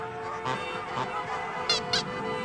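A crowded flock of geese and ducks at a lagoon in Anchorage, Alaska, giving scattered honks and calls, with two sharper, louder honks near the end over a steady background of birds.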